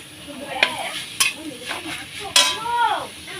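A grated coconut and sugar filling is stirred in a pan, with a few distinct scraping strokes and clinks of the spoon heard close up over a soft sizzle.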